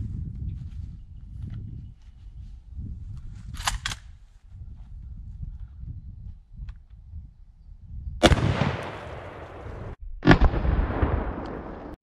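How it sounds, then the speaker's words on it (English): Rifle fire with Czech 7.62x54R training ammunition aimed at water jugs outdoors: two loud sharp shots with ringing decay, after quiet low rumbling background and a faint earlier click. "Let's shoot some jugs."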